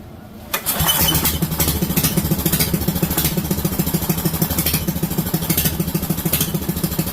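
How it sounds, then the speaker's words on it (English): A motorcycle engine with a newly installed carburetor cranks over and catches, then settles into a steady, close, loud idle with a lumpy, pulsing rhythm. "let's give it a little throttle here and see if it'll go"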